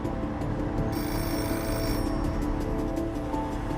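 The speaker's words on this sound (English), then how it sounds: "Shortly after midnight, the phone rings in the home" A telephone rings shortly after midnight in a London home in 1973, a loud continuous bell trill sustained throughout, heard alone with no voices.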